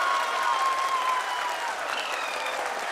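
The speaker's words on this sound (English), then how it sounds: "People are applauding." People applaud the Chandrayaan-3 lunar landing, a loud, sustained wash of clapping from a large gathering that continues evenly throughout, with a faint tone briefly audible in the mix.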